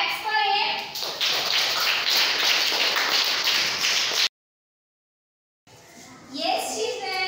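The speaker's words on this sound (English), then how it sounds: "Claps for him." Children in a class 4 English classroom clap together for a classmate, a loud sustained patter of hands that breaks off abruptly, followed by silence and then a teacher's voice.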